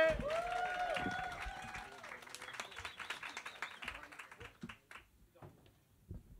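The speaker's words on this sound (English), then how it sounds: "Keep that applause going for the next act on the stage, Emerson Young, everybody!" Comedy club audience applauding as the next act takes the stage: dense clapping and crowd noise that thins into scattered claps over several seconds.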